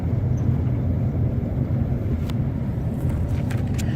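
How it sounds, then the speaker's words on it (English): Inside a moving car, a steady low road and engine rumble fills the cabin, constant and fairly loud, with a few faint high clicks near the end and no talking. "I'm in the car right now"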